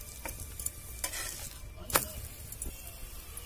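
Soft, steady sizzle of flatbread frying in oil on a pan, with scattered light scraping and tapping of a utensil, fairly quiet.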